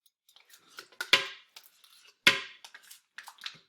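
A container of mixed berry Greek yogurt is opened in a kitchen, heard as a few close, sharp crackles and plastic clicks among small handling noises.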